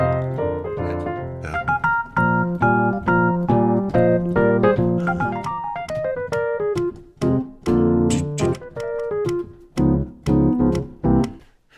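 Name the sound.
60s soul R&B piano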